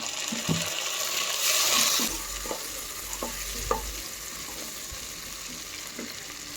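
Chopped onion and tomato fry in a pan with a steady soft sizzle, broken by several sharp scrapes and taps of a spoon stirring.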